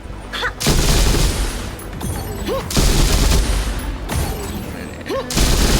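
Heavy gunfire and a grenade blast in Girls' Frontline 2: Exilium, with loud sustained volleys and booming impacts separated by brief lulls, close and dense throughout.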